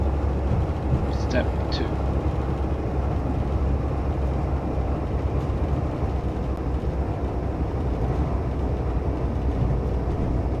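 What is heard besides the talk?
Class 165 train braking in Train Sim 2019 video game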